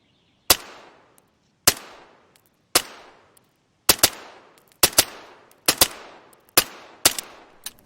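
Pistol fire in the video game DayZ: about a dozen sharp, dry shots, first spaced evenly and then in quicker pairs, each with a short decaying tail against silence.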